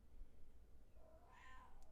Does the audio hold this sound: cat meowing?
yes